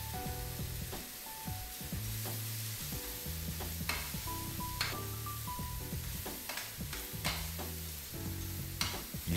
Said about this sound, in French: On va les faire fortement rissoler dans un récipient avec de l'huile très chaude.